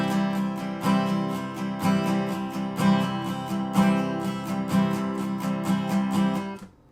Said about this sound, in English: they strum it up and down until the song eventually kicks off.